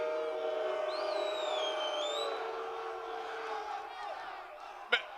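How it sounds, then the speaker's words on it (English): Crowd at a UFC 313 press conference booing, with a sustained jeering roar and a few whistles and shouts, steady and fairly loud before fading slightly, ending with a sharp short knock. "What does it feel like to be booed up there?"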